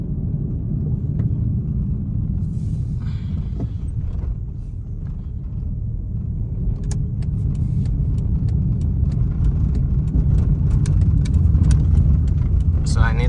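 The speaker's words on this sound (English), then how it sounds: "Let me drive out, take one of my cars" A car driving along a road, with steady engine and tire rumble throughout and some intermittent clicks, while people talk over it.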